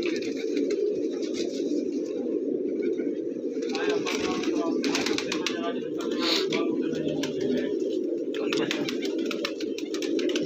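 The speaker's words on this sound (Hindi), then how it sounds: "अब एक ये देखिए जी अल्फिया पिशौरी कबूतर, माशाल्लाह नायाब कबूतर इन्होंने रखे हुए हैं।" Peshawari pigeons coo steadily in a bird enclosure, a continuous low murmuring drone from many birds with brief chirps and rustling layered on top.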